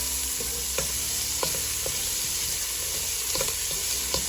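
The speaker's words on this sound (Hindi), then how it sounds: "और इसमें मैंने ये जो चॉप किया हुआ प्याज है वो डालूंगी। थोड़ा सा बस इसको मैंने भूनना है, बहुत ज़्यादा नहीं भूनना" Chopped onion fries in a pan with a steady, dense sizzle, while a spoon scrapes and clicks against the pan every half second or so as it is stirred.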